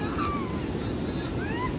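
A flooded river swollen by the Mehkari dam overflowing, carrying large uprooted trees, rushes past in a continuous loud roar mixed with gusty wind buffeting the microphone.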